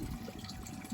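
Faint, continuous splashing of water falling from a shower into a koi pond, a soft, even wash of sound over about a second.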